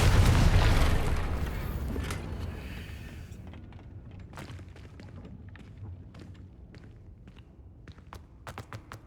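A Confringo fire spell in the game Hogwarts Legacy bursts into a loud, rumbling boom that fades slowly, followed by scattered light taps and footsteps.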